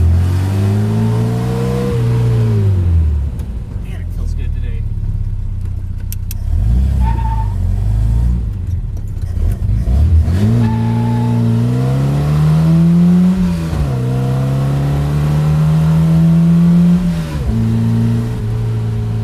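An Opel GT Targa engine with Weber DCOE carburetors, running too rich at the top end, revs and accelerates loudly through several gear changes, its pitch rising and falling steadily; someone speaks briefly over it.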